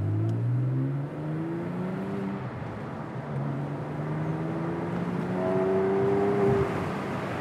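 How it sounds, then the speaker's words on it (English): Porsche 911 Carrera S 997.1 flat-six engine and exhaust revving from inside the car on a test drive, with rising and falling harmonic engine tones as it accelerates and shifts, loud and steady throughout with no talking. "I think the exhaust sounds, you know, that bit angry"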